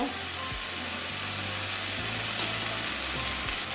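Chopped mango pieces sizzle in a pan while being fried down for a kachki fish curry, a constant soft hiss with a low droning hum underneath.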